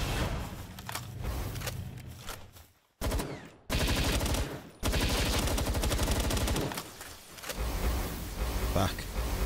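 Rapid automatic gunfire from a Palworld boss fight against Shadowbeak, dense and loud, with short breaks in the stream before the bursts resume.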